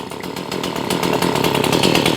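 A Stihl chainsaw with an air leak idles at slightly low RPM, its engine buzzing loud and close with a fast, steady two-stroke pulse that rises a little in level.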